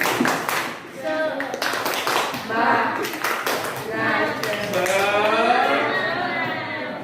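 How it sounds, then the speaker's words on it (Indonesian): Students at an Islamic junior secondary school (MTs) performing the 'tepuk semangat' clapping chant, rhythmic patterned claps mixed with chanted voices, the group talking and calling out throughout. "coba tepuk semangat"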